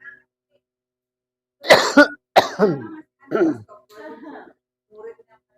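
A couple of harsh, close coughs followed by throat-clearing and a few short vocal sounds, separated by quiet gaps.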